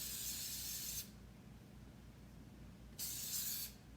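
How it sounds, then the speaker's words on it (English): Hairspray is sprayed onto freshly curled hair in two short hissing bursts, each about a second long and separated by a quiet pause, close but soft. "We're going to spray,"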